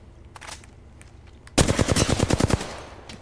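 Automatic gunfire in Apex Legends, a rapid burst of about a dozen loud close shots after a quieter stretch with a few faint distant pops.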